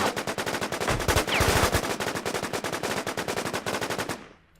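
Rapid automatic gunfire in the game WarZ, a dense and steady stream of loud close shots that runs for several seconds before stopping abruptly, with no talking over it.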